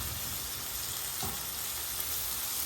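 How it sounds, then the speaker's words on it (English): Onions frying in rendered beef and bacon fat on a flat-top griddle, a steady close sizzle with a faint scrape midway. "See how that beef fat and that bacon fat's cooking them onions?"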